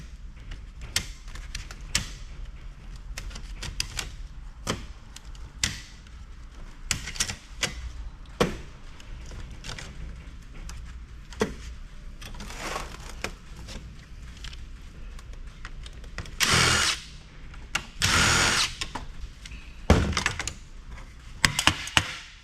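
A hot swap fan from a scrapped server is broken apart to remove its motor, giving scattered sharp plastic clicks, cracks and knocks at close range, with a few louder bursts of prying and snapping near the end.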